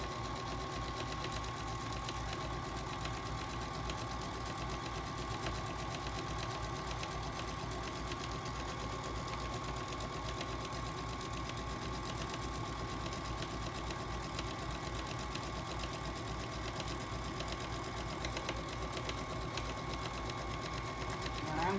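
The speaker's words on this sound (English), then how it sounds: "I'm just going to keep sewing all the way on." A sewing machine runs in a steady, continuous mechanical whir as it stitches a fabric pillow insert, close and even throughout.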